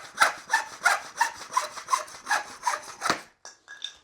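Hand saw cutting off excess metal from a Porsche 356 brake caliper part, about ten steady rhythmic back-and-forth strokes, close and fairly loud, ending with a short rasp and silence.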